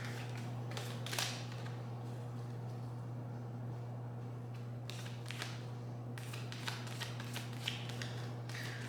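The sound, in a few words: shuffling cards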